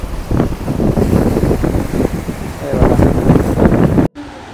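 Sea waves on a Konkan beach, a rolling surf roar heavily buffeted by gusts of wind on the microphone, near and loud, cutting off abruptly near the end.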